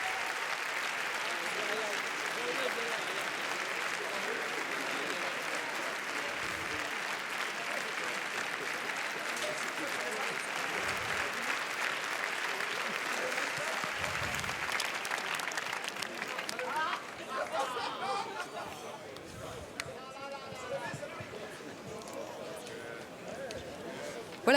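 Sustained audience applause at a Cannes 2018 red carpet screening: a dense, even wash of clapping lasting about fifteen seconds, then softening and thinning under speech.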